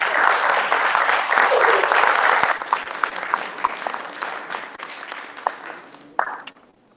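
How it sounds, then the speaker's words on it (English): Audience applause at a Shivaji Maharaj Jayanti celebration in the USA, loud dense clapping that thins out over the second half and stops near the end. "So let's have a huge round of applause."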